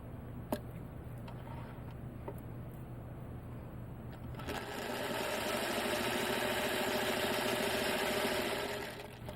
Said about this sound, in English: lay it under the next diagonal line, and sew again.